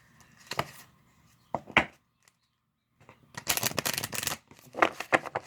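An oracle card deck is shuffled up close: a few quick riffles and flicks, a short pause, then a longer dense burst of card shuffling followed by a couple of brief riffles, with no voices.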